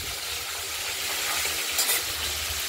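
A fish head fries in a pan with a steady, close, hissing sizzle and a brief burst of louder crackling partway through, and no one speaks.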